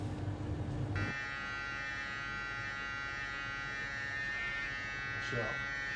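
An electric hair clipper buzzes steadily and close during a barber's clean cut, a continuous loud hum that shifts slightly in tone after the first second, with a voice talking faintly underneath.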